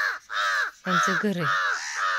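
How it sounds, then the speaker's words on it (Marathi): A crow caws repeatedly and close by, harsh drawn-out calls, while a person speaks briefly between them. "कावळा कसा ओरडतोय,"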